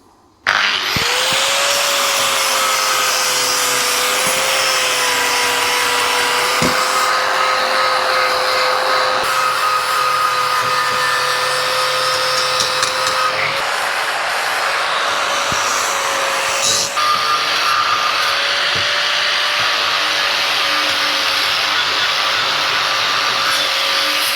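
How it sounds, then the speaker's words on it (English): A grinding wheel on a power tool whines loudly and continuously against the steel rear subframe of a Honda Hornet scrambler, its pitch holding steady for over twenty seconds with brief shifts in load. "Using one of those grinding wheels"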